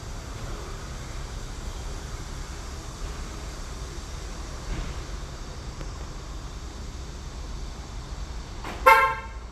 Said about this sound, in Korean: 마이키 클래식 스마트키가 멀어지게 되면 차량 문은 자동으로 잠기게 됩니다.